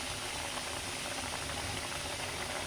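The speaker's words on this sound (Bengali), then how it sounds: "ঝোলটা ফুটে এসছে ভালো করে, এবার আমি মাছগুলো সব দিয়ে দেবো।" A pot of light fish curry broth with gourd leaves and potatoes boiling on the stove, a steady bubbling hiss and simmer held close and even throughout, with no talking.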